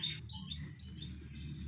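Small birds chirp in an aviary, a few short high tweets near the start and scattered faint chirps over a steady low hum, quiet overall with no talking.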